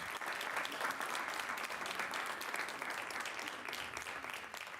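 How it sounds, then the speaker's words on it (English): Applause at a town board meeting for a student, a dense continuous patter of many hands, fairly faint and distant, running steadily without talk. "Everybody give Elijah a round of applause"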